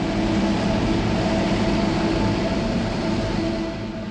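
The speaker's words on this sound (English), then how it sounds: "There are 6 trains on the circuit, and they're always crowded." Free monorail train running on its circuit around the perimeter of an Expo site, a steady continuous rumble and hum that holds level throughout and fades slightly at the end.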